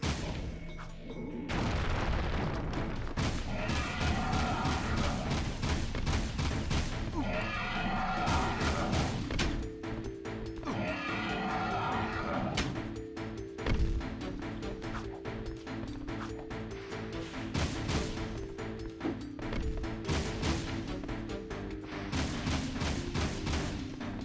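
Rapid, repeated bursts of gunfire pound a target in Jak II, dense volleys of booming shots and thuds over game music, continuing with brief pauses throughout.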